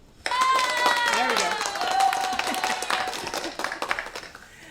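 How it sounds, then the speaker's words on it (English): A canned applause sound effect plays during a virtual music session, a brief burst of clapping and cheering mixed with tonal chatter and whistles that swells at once and then tapers off. "We could have had some fake applause."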